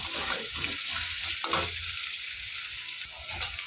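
Hilsa fish with potato and slit green chillies frying in a pan, a steady dense sizzle with stirring scrapes throughout, no voices.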